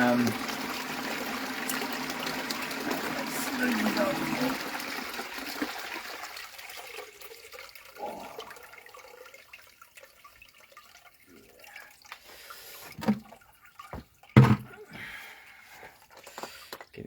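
Water sloshing and trickling during gold panning of a bucket clean-up, a soft continuous wash that fades out, then scattered drips and small splashes with a couple of sharper knocks near the end.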